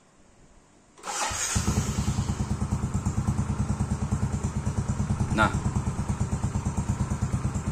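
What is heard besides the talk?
X-Rate motorcycle engine idling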